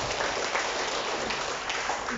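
Audience at an Indonesian parenting seminar claps in a dense, even patter like rain, moderately loud and continuous for a couple of seconds with no voices over it.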